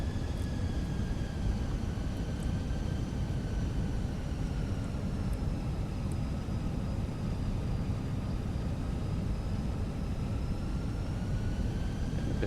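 Fenix A320 airliner on landing approach in Microsoft Flight Simulator 2020, a steady droning engine hum with whining tones, constant and unbroken, with no voices.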